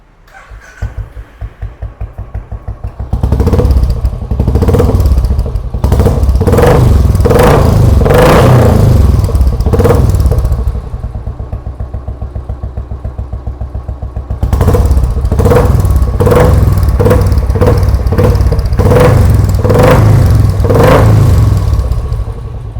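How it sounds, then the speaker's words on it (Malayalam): A Royal Enfield Classic 350 fitted with a Red Rooster exhaust starts up loud and close, settling into a heavy thumping idle broken by repeated sharp throttle blips, a quieter spell, then more rumbling revs. "റെഡ് റൂസ്റ്ററിൻ്റെ എക്സോസ്റ്റ് ആണിത്."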